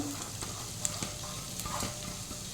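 Three chopped onions fry in a pan over gas for egg chilli, giving a soft steady sizzle with occasional clicks and scrapes of stirring, close by and fairly quiet.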